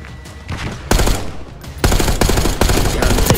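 Gunfire in the video game Call of Duty Black Ops 6: loud, dense automatic bursts with sharp repeated shots and heavy impacts, continuous through the clip with no talk.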